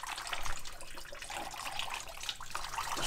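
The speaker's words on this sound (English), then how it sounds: "Just trying to catch all the streams of fluid." Fluid drains in several streams from a turbocharged LS-engined Camaro into a catch pan, making a steady, close splashing trickle that runs unbroken for a few seconds with no talking.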